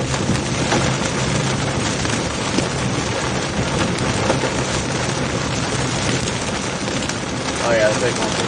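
Giant hail from a supercell thunderstorm hammers down in a loud, dense, unbroken roar of impacts. Voices speak excitedly over it.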